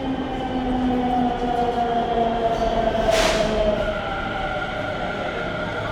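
A Delhi Metro train runs toward Sarojini Nagar with a steady, even rumble and hum, and a brief hissing surge midway through the ride.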